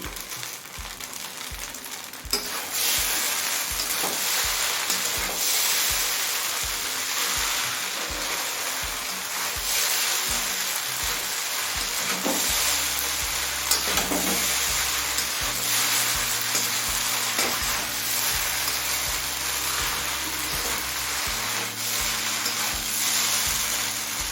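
Chow mein with egg, shrimp and chicken stir-fries in a hot pan, a loud, continuous sizzle with rhythmic scraping and tossing strokes close up and no voices throughout.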